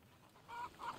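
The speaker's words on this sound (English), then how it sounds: "Chickens." Chickens cluck in A Plague Tale: Requiem, with two short, fairly clear clucks close together, and no talk.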